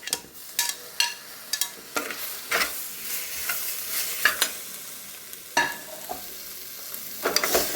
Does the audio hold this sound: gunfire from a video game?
no